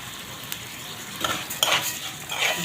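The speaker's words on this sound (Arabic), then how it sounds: "نحمر الشعريه ونطفي عليها بعد ما تتحمر" Vermicelli noodles fry in a pan for lentil soup with vermicelli, giving a low sizzle broken by several scraping stirs of a utensil against the pan, close and moderately loud, with no talking.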